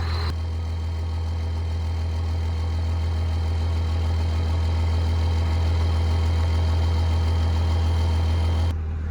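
A Cummins diesel engine in a regular cab short bed pickup idles while warming up, a loud, steady, close low rumble with a constant droning hum that runs unbroken throughout.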